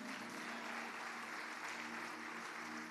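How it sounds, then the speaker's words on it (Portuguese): A large church congregation applauding together at an evening service, a dense, steady wash of clapping that fills the whole moment with no voices over it. "Você pode aplaudir ao Senhor por isso?"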